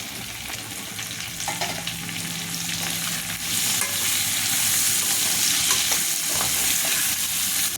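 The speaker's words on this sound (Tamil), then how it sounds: "வெங்காயம் நல்லா வதங்கிடுச்சுப்பா." Long-sliced onions sautéing in a hot pan for fenugreek curry, a dense, loud sizzle with brisk stirring scrapes that grows fuller partway through, close up and with no one talking.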